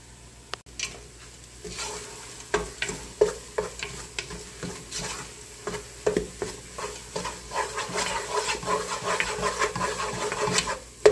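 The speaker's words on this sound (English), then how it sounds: "we're just cooking the flour and everything together" Flour, butter and onions cook together in a pot for creamy potato soup, giving a steady sizzle with repeated scraping stir strokes that grow busier and closer toward the end, with no talking.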